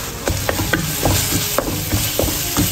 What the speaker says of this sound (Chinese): 用小火慢慢炒香